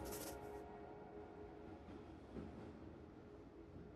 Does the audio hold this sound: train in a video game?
yes